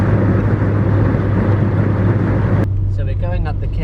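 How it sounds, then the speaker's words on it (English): A car labouring uphill on a road trip up the Cairngorms, its engine noise a loud, steady low drone with a strong hum, which quiets and thins sharply near the end as someone speaks over it. "And the car is struggling, I'm not going to lie."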